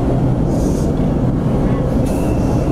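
An LRT light rail train runs at Gil Puyat station in Pasay with a loud, steady low rumble and brief higher squeals of wheels on track, heard close and continuous.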